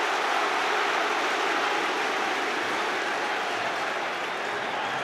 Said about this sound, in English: You know you can hear the noise of the crowd lifting